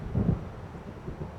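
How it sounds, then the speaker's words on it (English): Thunder of an approaching storm in Alan Wake Remastered, a low, muffled rumble swelling briefly then fading into a dull, distant roll over steady ambient noise. "It seems there's a storm coming."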